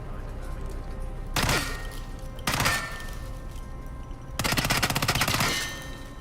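Three separate bursts of automatic gunfire from Hitman 3 played on PC, each a sharp loud volley, the last one longest and most rapid, with quieter game ambience between them.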